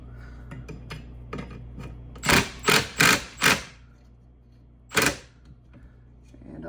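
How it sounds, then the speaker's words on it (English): A bolt on a Milwaukee bandsaw table is tightened with a 3/8 socket. Four quick ratcheting bursts come in a row, then one more after a pause, sharp and close against a quiet background. "we'll go ahead and tighten this one down some more. 3/8 socket."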